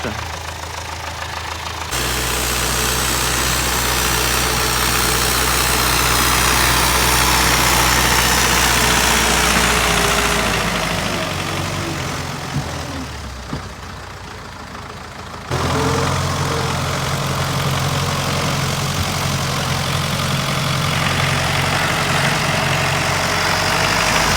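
An MTZ-80 tractor engine runs loud and steady during field cultivation, its low drone dipping briefly midway before returning at full strength.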